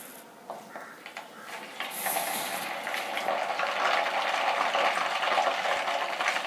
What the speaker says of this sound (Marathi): आता पाणी टाकल्यानंतर खूप जास्त आवाज येत आहे